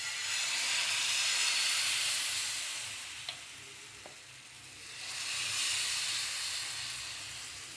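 Dosa batter with onion and green chilli sizzling on a hot griddle: a steady, soft hiss that swells and fades, close by, with a couple of faint clicks and no talking.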